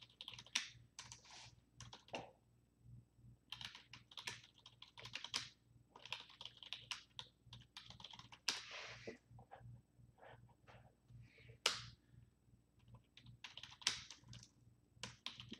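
Rapid clicking of a computer keyboard being typed on, irregular bursts of keystrokes close by with short pauses, over a faint steady low hum, with no talking.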